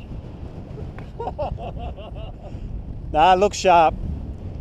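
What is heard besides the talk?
strong wind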